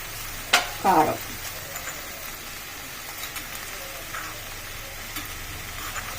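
Okra fries in a pan with a low, steady sizzle, broken early by a few sharp clinks of stirring against the pan, then settling into quiet continuous frying.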